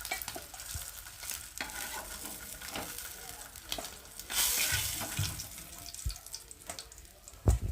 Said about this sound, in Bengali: ওই জন্য দেখো এক এক করে ভেজে নেব